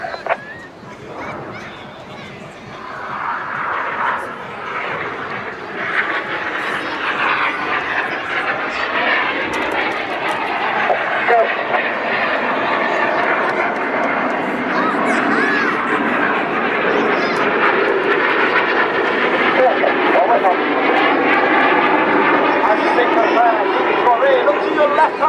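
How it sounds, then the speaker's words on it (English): Display aircraft at a seaside airshow performing barrel rolls, a continuous loud engine roar that swells and holds steady, heard under a live commentator talking throughout. "Each aircraft will perform a barrel roll."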